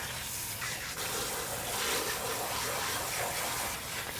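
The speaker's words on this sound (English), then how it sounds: "And we'll go ahead and turn on the water" Water runs steadily from a tap for washing a wig, a continuous broadband rush of moderate loudness that stays even throughout without talking.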